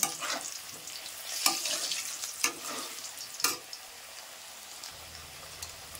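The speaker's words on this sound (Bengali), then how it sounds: "আমি আলুগুলো লাল লাল করে ভেজে নিচ্ছি লবণ হলুদ দিয়ে।" Potatoes fry in a pan with salt and turmeric, a soft crackling sizzle broken by a few sharp clinks of a spatula against the pan, then settling to a quieter hiss.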